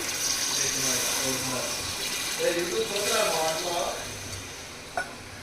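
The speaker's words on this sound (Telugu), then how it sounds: "ఇప్పుడు వాటర్ వేసుకోవాలి." Water is poured into a crab curry as it cooks, giving a steady watery hiss and splash throughout with a few brief clinks, close by and moderately loud. A voice briefly talks over the pouring.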